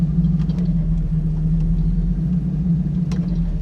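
A 1937 Buick street rod with a newly installed BluePrint Engines 350 crate engine rumbles along at a low, even drone, close and loud, with faint tapping above the steady tone.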